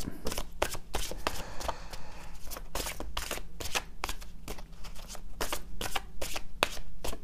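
Oracle cards shuffled by hand: a close, rapid run of crisp riffling and slapping bursts, repeating in quick rhythm without any voices.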